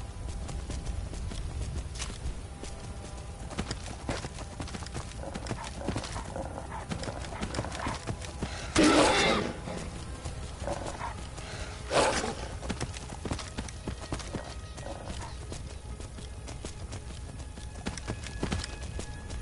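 Skeleton horse hooves galloping in the video game Skyrim, a steady clip-clop running through the whole stretch with a couple of louder bursts, and no talking.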